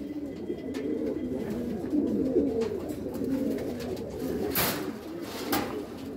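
Domestic pigeons cooing inside a loft, a steady low rolling coo chorus continuing throughout with faint wing and shuffling noises layered over it.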